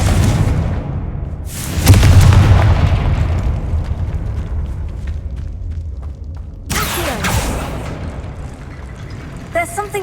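Two heavy explosions from the Confringo blast curse in Hogwarts Legacy, each a sharp broadband boom trailing into a long rumbling fade, with a faint voice in the background.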